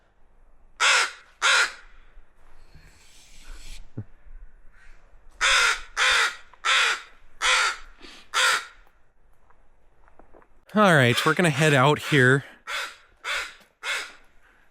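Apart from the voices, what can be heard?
crows cawing near their nest at Taku Harbor, Alaska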